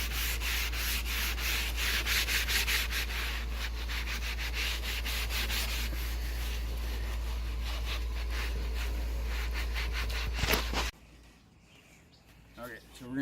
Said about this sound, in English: Don't be afraid to really scrub it really good with these sponges like this